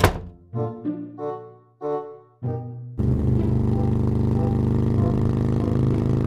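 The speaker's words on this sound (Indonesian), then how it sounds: "Itu yang tadi lewat kayaknya motor Samsul dah." A motorcycle engine drones loud and steady close by for the second half, after a few muffled knocking thuds at the start.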